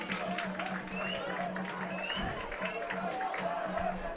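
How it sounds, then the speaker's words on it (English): A football stadium crowd at South Sudan versus Sudan cheers and claps, a distant, steady roar with patches of applause under an ongoing voice. "And the crowd start to find their voice once more."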